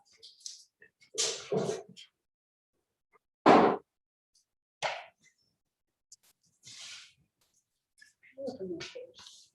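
A dog in a city council chamber during a study session gives a few short, scattered vocal sounds separated by silence, fairly close and moderately loud, with brief speech nearby.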